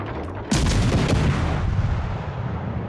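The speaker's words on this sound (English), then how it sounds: "Let's get some shots downrange on this Hosho here." A cruiser's naval guns fire a heavy salvo in World of Warships: Legends, one loud booming blast that rolls into a long, fading rumble.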